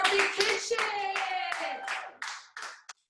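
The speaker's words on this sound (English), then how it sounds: "Everybody give a big clap to our big kitchen." A group clapping hands at a children's challah baking event, several sharp close claps in an irregular rhythm while voices shout and cheer over them, fading to a few scattered claps.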